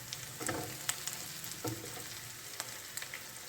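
Goan chicken cafreal fries gently on a low flame, a soft, even sizzle with scattered light crackles and a few quiet taps of a spatula against the pan, close but fairly faint.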